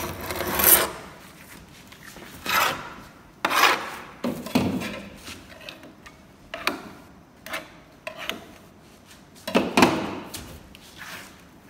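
Scraper tips working softened paint stripper off a wooden bungalow door, a series of separate close rasping scrapes spaced a second or two apart with no talking.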